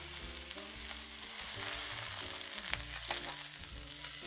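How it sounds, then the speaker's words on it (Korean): Onions sautéed in a frying pan for banh xeo give a soft, continuous sizzle and crackle close by, with faint stirring. "양파를 볶아주세요."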